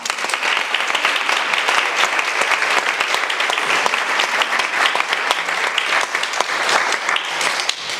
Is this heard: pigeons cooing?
no